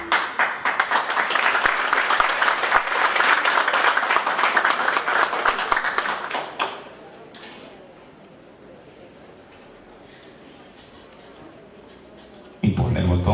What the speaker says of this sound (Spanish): Brindémosle un aplauso a la doctora Lucy Blasio, por favor.